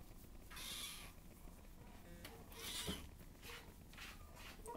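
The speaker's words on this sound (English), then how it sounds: "I can hear you purring" A cat purrs softly and steadily at close range, with a few brief, higher meow-like bursts rising above the low rumble.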